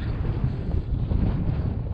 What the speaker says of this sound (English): It's probably blowing about 14 on the high gust right there.